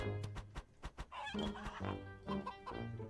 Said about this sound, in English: What is the chicken noises the whole time?